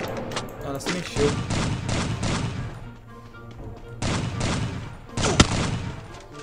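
Rapid bursts of gunfire in a 2v2 shooter game match, dense volleys of shots with brief lulls and one sharp crack, loud and close, mixed with game noise and players' voices.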